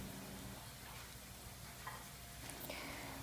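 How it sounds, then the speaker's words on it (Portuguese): Garlic cloves heating in olive oil in a pan give off a steady, soft sizzle and crackle that runs the whole time, fairly quiet and with no voices. "Em uma panela, aqueça 3 dentes de alho com azeite de oliva a gosto."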